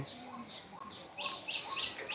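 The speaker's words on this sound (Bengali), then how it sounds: "সে যে অন্য অন্য পাখিগুলো ডাকতেছে" Several lovebirds chirping and calling in repeated high, sweeping notes, fairly close and steady, with a few brighter tweets toward the end.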